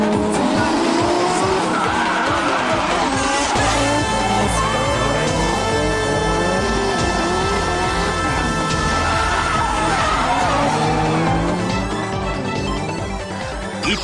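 A Toyota JZX100 with around 600 horsepower drifts on a touge course in a tandem battle, its engine roaring loudly and continuously as tires squeal and skid throughout, with a commentator talking over it.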